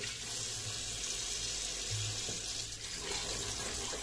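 Water runs from a kitchen tap in a steady, continuous hiss of moderate loudness, with no voices and no break.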